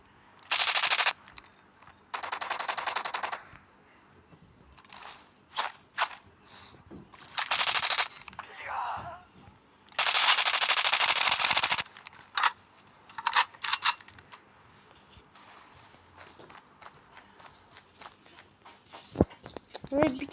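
Gunfire rings out in a video game as several loud bursts of automatic fire, separated by quieter stretches with footsteps and clicks, while someone talks in between.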